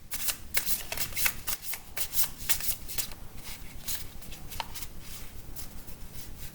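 Tarot cards being shuffled close up, a continuous papery riffling and sliding with rapid crisp flicks throughout, steady and fairly loud with no talking.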